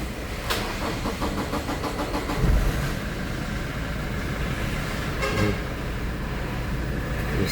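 A Toyota Innova 2.8 engine cranks and starts after turbo and EGR valve cleaning, then settles into a steady, loud diesel idle heard up close.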